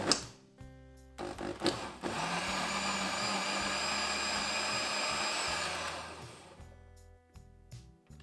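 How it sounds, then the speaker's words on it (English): After a few clunks, a blender pulping water-soaked wrapping paper whirs loudly for several seconds with a steady high whine, then winds down to clicks and knocks. "Blend it for longer than you think until it's smooth."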